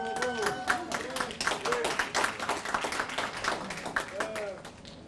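Audience at a Veterans Administration dinner applauds with a steady wash of hand clapping, some cheering voices mixed in, filling the room for several seconds before easing off.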